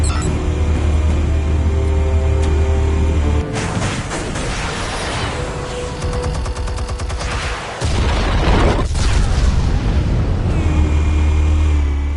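Explosives go off in Batman: The Telltale Series, a loud roaring burst of blasts and rumbling debris that swells twice, with dense crackling and booming and no voices.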